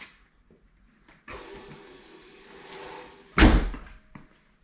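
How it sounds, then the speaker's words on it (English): The door of a Bricklin car, fitted with revised weatherstrip, swings shut with a single solid slam, close and loud, after a quiet stretch with a faint mechanical hum and no talking. "and shut the door."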